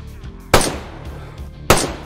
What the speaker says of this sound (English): I'm going to start shooting some zombos, though, probably.